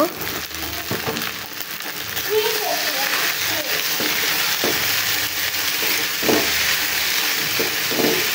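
Pasta with spices and sauce being stirred in a hot pan, a continuous sizzle with intermittent utensil scrapes, while people talk over the cooking.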